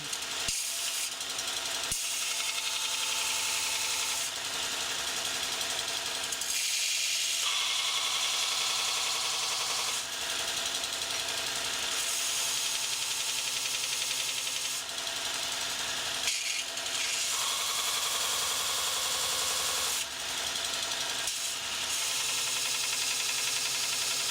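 A Robert Sorby Pro Edge sharpening system grinds a woodturning tool, giving a steady, loud, hissing abrasive rasp that runs without a break, shifting slightly in tone as the tool is moved across the belt.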